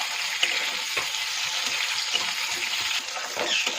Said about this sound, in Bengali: সব কিছু দিয়ে 2-3 মিনিট একটু ভেজে নেবো।